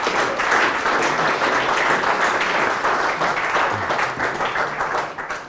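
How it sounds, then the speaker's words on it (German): An audience applauds at an open-source software awards ceremony: a sustained burst of many hands clapping at a fairly loud, even level, easing slightly toward the end. "Kurzer Applaus für die Post."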